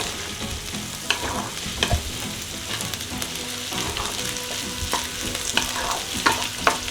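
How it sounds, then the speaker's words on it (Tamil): Chicken sautéing in butter with masala for creamy malai chicken, a steady close sizzle broken by frequent scraping clicks as it is stirred in the pan. "இந்த சிக்கனையும் இதில் போட்டு கொஞ்சம் நேரம் வதக்கும்."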